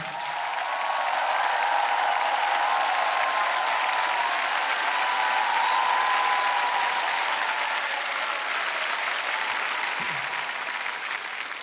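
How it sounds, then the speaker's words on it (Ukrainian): Sustained applause from a large hall audience welcoming a lawyer and soldier to the stage, loud and steady throughout with no break, a few faint voices rising within it. "я прошу цю залу зустріти неймовірними оплесками"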